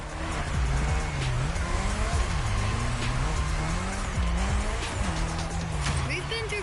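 A Lancer Evo 6 drifts around an airport course in a racing video game, with a continuous engine roar and wavering, repeated tire squeals as the car slides, while a voice talks over it.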